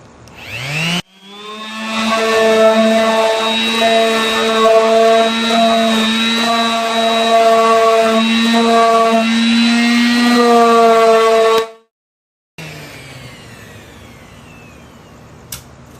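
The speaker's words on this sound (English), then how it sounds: "Buff this with the sander, and then I will make a patch for the inside of the hole." A sander buffs a fiberglass mannequin head at the neck hole, a loud steady whine with strong tonal harmonics running about ten seconds alone, then cutting off abruptly, followed by quieter handling noise.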